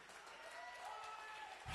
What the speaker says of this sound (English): I need you to clap with some expectation.